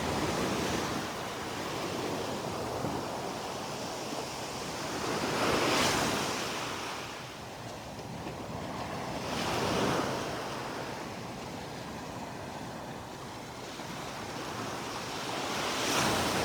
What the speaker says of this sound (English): a little more wave action today than yesterday